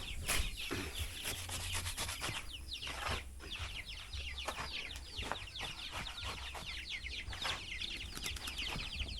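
Chickens clucking and cackling in a flock, with scattered sharp calls and occasional wing flaps, heard at moderate distance over a steady low background hum, quiet overall with no talking.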